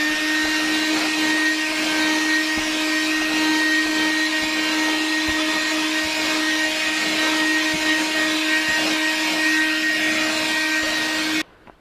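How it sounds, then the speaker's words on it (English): An SCA 12V car vacuum cleaner runs with a steady, close motor whine and airflow roar for the whole stretch, with no talk, then cuts off abruptly at the very end. "I've got the little vacuum cleaner plugged in"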